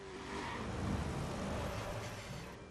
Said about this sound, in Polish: Zaparkujemy samochód chyba.